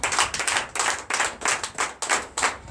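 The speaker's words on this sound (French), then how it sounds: "Donnez l'acclamation à Jésus." A church congregation claps in unison at a Sunday worship service in Comè, Benin, steady rhythmic hand claps repeating about every half second, loud and close with no talking.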